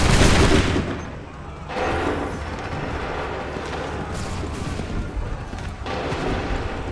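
A musket volley in Assassin's Creed 3 cracks out loud and close with a heavy boom, then trails into rumbling echoes and scattered later shots.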